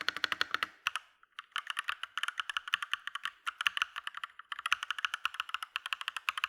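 Typing on a Hator Rockfall TKL mechanical keyboard with soft linear switches, rendered as rapid, close, steady keystroke clatter with a brief pause, no voices.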